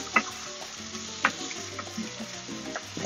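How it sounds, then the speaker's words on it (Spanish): Sofrito with peppers sizzles in a pan while a utensil stirs it, with two distinct scraping knocks over a low, steady frying hiss and no talk. "Vamos a remover bien, como están viendo."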